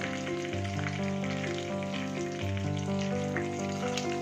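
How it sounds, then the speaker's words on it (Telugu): Homemade whole garam masala with ginger and garlic fries on a low flame, producing a soft, continuous sizzle under a steady tonal hum, even and unbroken, no talking. "ఇప్పుడు దీనంతటిని కొంచెం ఫ్రై చేసుకోవాలి"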